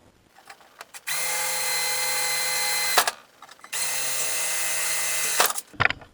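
A power drill bores small holes in iron for a corner shelf, running in two steady, fairly loud bursts of a couple of seconds each, with a short pause and small clicks between them.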